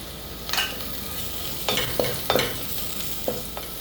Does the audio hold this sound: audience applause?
no